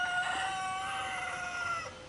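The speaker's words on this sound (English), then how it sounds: "Whoa, I heard crowing." A rooster crows in one long drawn-out call, moderately distant, over a low steady background hiss.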